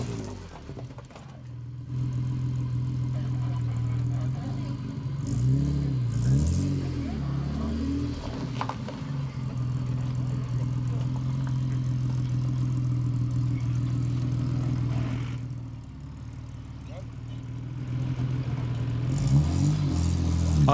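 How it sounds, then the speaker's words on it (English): A Nissan Sani V6 4x4 revs hard and its wheels spin as it struggles up a steep climb during a 4x4 club challenge qualifying run. The engine drone rises and falls in surges, and voices talk faintly at times. "they're in a spiffy Nissan Sani V6. But this Nissan also spins to a halt halfway up."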